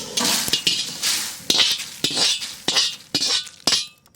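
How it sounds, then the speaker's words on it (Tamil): Spoon repeatedly clinking against a bowl while freshly fried spices, chillies, fenugreek and mustard seeds, are scraped and tipped in, about eight sharp metallic taps in a steady rhythm, close and clear with no talk. "இப்போ இதை நம்ம ஒரு பவுலில் எடுத்து கொட்டிக்கலாம்."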